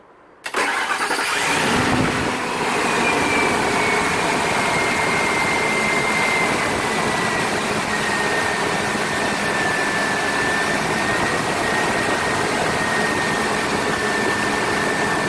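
A Ford F-250 pickup truck's new engine cranks and catches, then settles into a loud, steady rumbling idle with a faint whine running above it.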